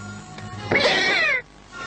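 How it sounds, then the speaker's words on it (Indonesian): A single drawn-out cat meow, close and loud, rising and falling over about half a second, with quiet room tone around it and no talking. "Pus, jangan ngeong lagi."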